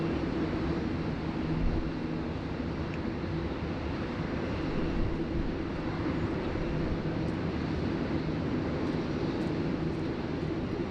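A Qantas 1 airliner at Sydney Airport starts to taxi, heard as a steady, moderately distant jet engine rumble and hiss with faint wind noise, unbroken by speech.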